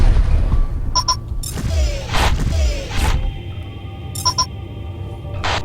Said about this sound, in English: Command, we lost the Conestoga to a reactor breach.